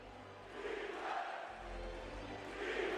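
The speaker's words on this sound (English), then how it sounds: "Knicks crowd is hype." A Knicks basketball playoff crowd against the Detroit Pistons roars in a broad, distant wash of cheering that rises and swells steadily in the arena.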